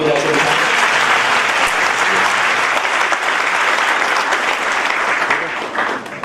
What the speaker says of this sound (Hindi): तो एक बार और जोरदार तालियां बजाते हैं।